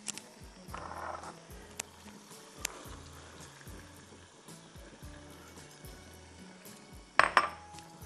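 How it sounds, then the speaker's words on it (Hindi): Chickpeas going into a biryani pot of yogurt-fried mixture, giving a few soft pours and metallic clinks of a pot and utensil, with a sharper clatter near the end. "अब मैं इसमें बूटे डाल रही हूँ"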